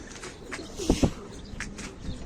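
A soft, low pigeon coo sounds once near the middle, with a few faint chirps and light rustling around it.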